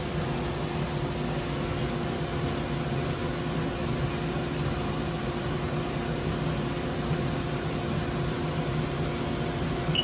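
Haas DM2 CNC mill machining riser blocks for an injection mold at 1500 RPM with a raised feed rate, giving a continuous, dense, loud mechanical whine and hum with no breaks or speech.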